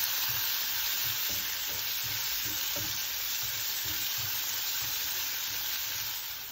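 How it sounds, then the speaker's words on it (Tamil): Onions with salt sautéing in a pan, heard as a continuous close sizzle with faint stirring scrapes, alone without talk. "ஆனியனை கொஞ்சம் சால்ட்டு போட்டு வதக்கிட்டேன்"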